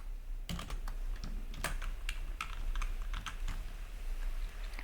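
HTML code is typed on a computer keyboard, producing quiet, close clusters of clicking keystrokes in irregular bursts over a low steady hum, with no talking.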